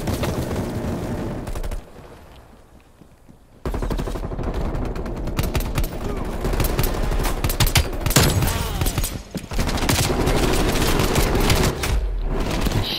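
Heavy gunfire in Call of Duty: Black Ops Cold War Domination mode comes as dense rapid automatic bursts and overlapping shots. It is loud and close, drops briefly to a quieter stretch, then returns with sustained firing.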